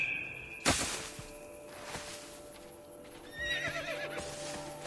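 A horse in the video game Assassin's Creed Brotherhood gives a sharp, rising whinny near the end, preceded by a loud thump and scattered hoof clops over a quiet ambient bed.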